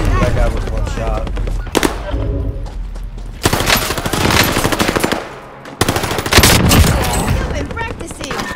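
Rapid automatic gunfire in a video game shootout, loud dense bursts of shots with brief pauses between them, while voices talk over the action.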